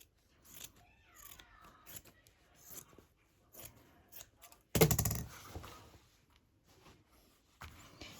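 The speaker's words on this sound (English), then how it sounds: "I'll just cut a piece off." Scissors snip through fabric and antique lace while making a pocket for a handmade junk journal cover, giving a series of soft, close cuts with one louder burst of handling noise midway and quiet rustling between.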